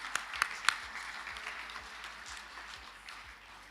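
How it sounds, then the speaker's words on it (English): An audience at a government address applauds ARTA and its partners. The clapping is faint, distant and even, with a few louder claps near the start before it settles into a soft, continuous patter. "Let us give another round of applause for ARTA and its partners for change."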